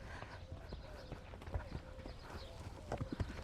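An Arabian endurance gelding walks with soft, irregular hoof clip-clops on the ground, moderately close, while a trainer's voice speaks faintly in the background.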